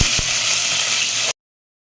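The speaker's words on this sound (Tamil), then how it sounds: "வெங்காயத்தை கொஞ்சம் வதக்கிக்கலாம்" Onions sauté in hot oil with mustard seeds for mango curry, giving a dense, steady sizzle that stays loud and close and then cuts off abruptly.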